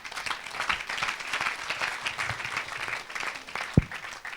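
A church congregation claps together in praise, a continuous, rapid patter of many hands filling the room at moderate loudness, with one sharper nearby clap standing out near the end.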